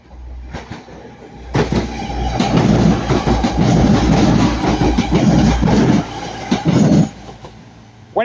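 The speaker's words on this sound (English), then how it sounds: "Got Transport for Wales class 197 using the forward track this time" A Transport for Wales Class 197 train passes on the forward track at Ardwick, a loud, steady rumble of wheels and carriages building in and sustained for several seconds with rhythmic clatter, then cutting off.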